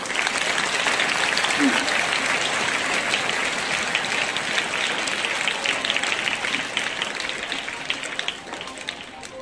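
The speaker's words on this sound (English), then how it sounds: "The clapping is not having any power in it." Audience applause at a Telugu mathematics ashtavadhanam performance, soft, limp clapping from a seated crowd that goes on steadily for nine seconds without building, under a faint murmur.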